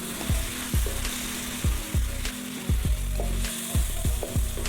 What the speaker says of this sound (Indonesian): Tumis kembali bumbu hingga tercampur.